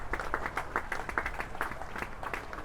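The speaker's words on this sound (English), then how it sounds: "met by applause from all four corners of the ground" A large crowd at a football stadium claps steadily throughout, a dense wash of applause with no voices standing out, during the FA Cup match Leamington vs Chasetown.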